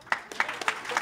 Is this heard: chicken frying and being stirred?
no